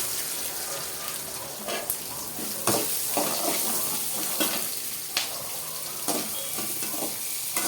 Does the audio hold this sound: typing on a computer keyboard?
no